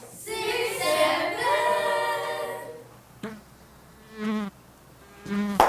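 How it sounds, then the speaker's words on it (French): A housefly buzzes steadily and close in a classroom for a few seconds before a few short voiced bursts follow. "Hey, prof, pourquoi tu tues la mouche?"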